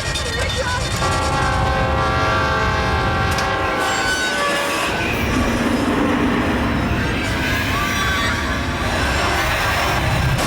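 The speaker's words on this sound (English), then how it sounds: "There's a train coming." A train roars loudly toward a stalled car on the tracks, with sustained horn blasts and rumbling, clattering wheels, all close and continuous.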